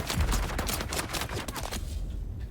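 A dense, loud burst of rapid gunfire from a Dune: Awakening firefight rattles on for about two seconds before cutting off.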